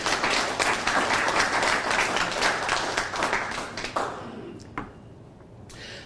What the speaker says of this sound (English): And you guys should give your round of applause